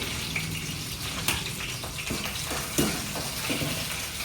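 Chilli frying in a pan while cooking paneer tikka and mushroom gojju, a steady broad sizzle running throughout with a few brief stirring clicks and scrapes, close and fairly quiet, no talking.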